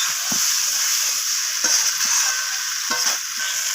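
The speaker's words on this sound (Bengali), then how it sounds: "ধনিয়া পাতাটা দিয়ে আমি এখানে আবারও নাড়াচাড়া করে কষিয়ে নিচ্ছি" Soybean chunks and cauliflower with chopped coriander leaves being stir-fried in a pan: a steady sizzling hiss throughout, with a few brief spoon scrapes and stirring knocks, close and moderately loud, no voices.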